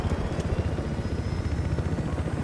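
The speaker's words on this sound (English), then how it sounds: "Man, we got a police chopper." Police helicopter in the video game Battlefield Hardline, a steady close rotor thump and engine drone running loud and continuous throughout with no talk.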